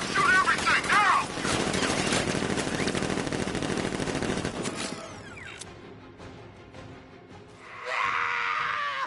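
Sentry guns in Batman: Arkham Knight unleash a loud, dense burst of rapid automatic fire for about five seconds, then fade into quieter rumbling and mechanical clatter with a brief hissing swell near the end.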